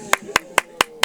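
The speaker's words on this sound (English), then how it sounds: "I'm the only one clapping tonight." One person clapping alone, five sharp, evenly spaced claps in about a second, close and crisp against a quiet background.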